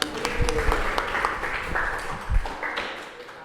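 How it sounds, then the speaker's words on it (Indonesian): Schoolchildren clap in a classroom, a brief, loose patter of hand claps at moderate distance with some knocks and voices mixed in. "Tepuk tangan"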